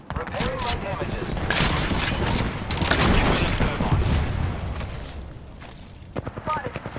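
Gunfire in Apex Legends, likely from an R-301 rifle, with rapid bursts and sharp cracks mixed with mechanical clicks and reload sounds, dense in the middle and tapering into scattered shots.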